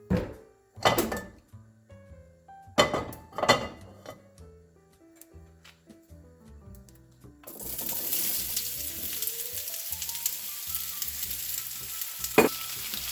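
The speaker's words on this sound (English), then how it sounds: "And then we're going to add this zucchini." Zucchini hits hot olive oil in a skillet after several clunks and knocks of handling, bursting into a loud, steady sizzle that continues close up to the end.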